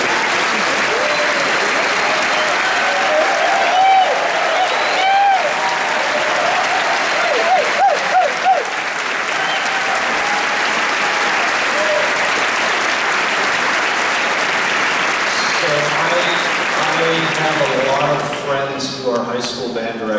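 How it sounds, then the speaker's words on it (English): A large audience at a Kansas City Symphony TubaChristmas concert applauds teachers, a dense, sustained round of clapping filling the hall, with scattered voices and a few brass notes audible as it tapers near the end. "could you please stand up so we can give you a round of applause?"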